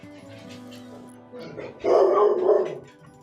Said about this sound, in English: Somebody's walking by with a little dog, so Copper has to let us know how she feels about that.